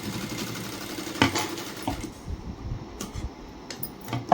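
Sewing machine running steadily while stitching a plain blouse, a continuous close mechanical whir with a few sharp clicks and knocks, easing off partway through.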